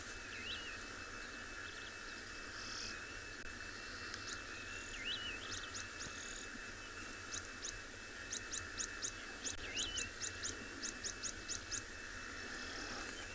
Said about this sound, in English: Lots of birds chirping.